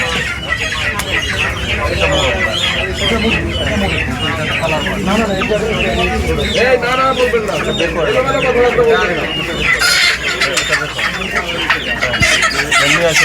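A crowd of Sonali and colour bird chickens clucking loudly and continuously at close range, with occasional crowing, while several people talk over them.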